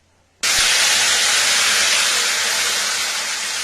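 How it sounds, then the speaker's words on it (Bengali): Coriander and green chili paste with salt and turmeric hits hot oil with a sudden loud hiss. The sizzle holds strong and even for about three seconds, then cuts off sharply. "এটা এবার তেলের মধ্যে দিয়ে আমি মশলাটা কষিয়ে নেব।"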